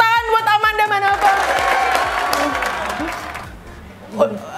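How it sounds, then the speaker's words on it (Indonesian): Studio audience at an Indonesian word-guessing game show applauds and cheers for a guest, with music playing early on; the crowd noise is steady and fairly loud, fading toward the end with a short shout near the close. "Tepuk tangan buat Amanda Manopo."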